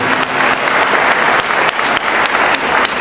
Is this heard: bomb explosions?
no